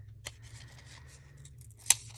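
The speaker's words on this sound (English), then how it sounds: "Let me cut this out. So sorry you get to watch me fuss cut." Scissors fussy-cutting a paper stamp up close, soft snips and rubbing of paper with a sharp louder snip near the end, otherwise quiet.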